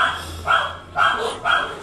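Three loud, evenly spaced dog barks ring out close by with no talking, each bark sharp and clear.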